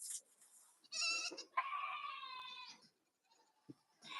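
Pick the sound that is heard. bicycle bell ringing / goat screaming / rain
goat screaming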